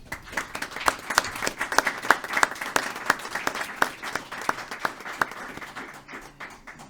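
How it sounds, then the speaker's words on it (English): Applause from the audience at a council meeting where a youth sports team is being honoured. The claps are sharp, close and unevenly spaced, and they fade out toward the end. "Ladies and gentlemen, can we have a round of applause,"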